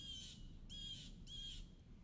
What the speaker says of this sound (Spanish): Escuchas los sonidos de las aves.